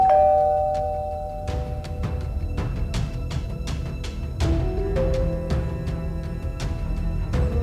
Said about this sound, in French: La sonnette sonna.